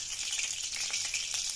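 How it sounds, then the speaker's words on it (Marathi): Kothimbir vadi pieces (Maharashtrian coriander fritters) frying in hot oil, a steady, close hiss of sizzling bubbles with faint crackles, constant and even throughout without any talking. "वडी तयार आणि मग ती तळून घ्यायची."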